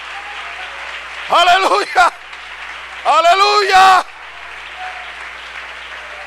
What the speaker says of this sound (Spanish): Un aplauso para Cristo, un aplauso.